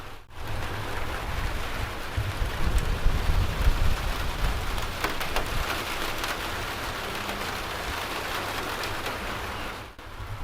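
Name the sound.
light rain heard from inside under an insulated ceiling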